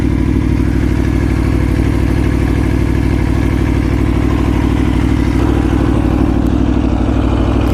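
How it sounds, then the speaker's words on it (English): An Aprilia Tuono 1100 motorcycle with a carbon-trimmed exhaust roars loudly and continuously while riding, a close, deep, even engine drone holding steady throughout. "And the exhaust sounds really nice."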